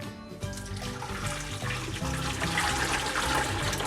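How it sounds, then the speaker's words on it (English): Hot tea for a batch of kombucha pours through a strainer into sugar, a steady splashing stream of liquid that grows slightly fuller as it goes, with faint tonal music underneath. "I'll put the hot tea in,"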